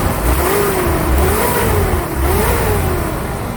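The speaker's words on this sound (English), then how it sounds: "snap the throttle." A car engine with an apparent compression problem revs as the throttle is snapped, the pitch rising and falling in a couple of quick climbs over a steady close, loud engine drone, with no talking.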